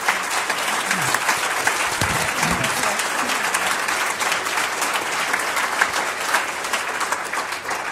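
A festival audience applauds the panellists at the close of an economics discussion on the banks, sustained dense clapping throughout with a faint voice briefly underneath.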